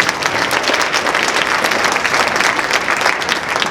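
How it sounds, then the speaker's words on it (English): A school assembly audience applauds a girls wrestling team of state champions, steady dense clapping from a large crowd filling the room without a pause, loud and close, with no talking over it. "Let's give them a round of applause."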